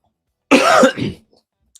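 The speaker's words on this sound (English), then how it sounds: "I was coughing." A single harsh cough, close and loud, with a brief rougher tail, followed by near silence.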